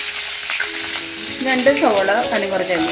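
Curry leaves and ginger-garlic paste sizzle and spatter in hot coconut oil for a duck roast, a steady close frying hiss with stirring scrapes, and brief speech partway through.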